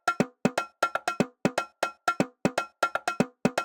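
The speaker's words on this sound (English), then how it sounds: "the TR727 is a Latin percussion drum machine." A Roland TR-727 Latin percussion drum machine loops a bright cowbell pattern in short, evenly spaced double hits, clean and repetitive with no voices.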